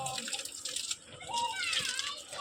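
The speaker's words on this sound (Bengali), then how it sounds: "পাপা যেভাবে জল দিচ্ছে ওয়ালে, সেইভাবে দাও জলটা।" Water from a hose hisses and splashes against a wall outdoors on a hot day, a steady spray with a brief dip midway, while a voice chatters over it.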